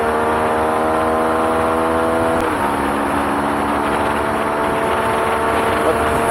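A CFMOTO 250NK motorcycle engine pulls hard through the revs toward its roughly 10,000 RPM redline, a loud steady drone with rising harmonics and a gear change midway, heard from onboard amid wind.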